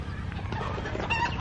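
Roosters perched in a tree cluck and crow, a brief burst of fowl calls close by, with a steady background murmur and no speech.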